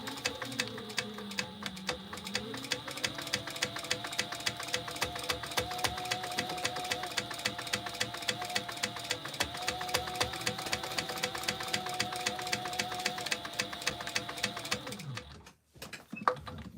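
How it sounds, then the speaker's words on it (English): Sewing machine stitching fabric for a tote bag, a fast, even mechanical chatter running continuously at close range, slowing briefly at the start and stopping near the end. "I'm going to match them so that way when I sew it together"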